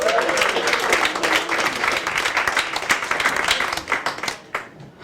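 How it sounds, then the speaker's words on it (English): A comedy club audience at Gotham Comedy Club claps and cheers in a dense burst of applause, with a voice calling out early on, before the clapping thins out and fades toward the end. "Start clapping right now"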